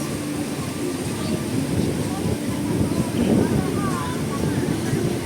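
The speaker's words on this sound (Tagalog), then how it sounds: "Mahangin dito sa may IFC Tower." Steady outdoor wind near IFC Tower, a continuous broadband rush with gusty low-end buffeting on the microphone that swells slightly midway, with no clear voices.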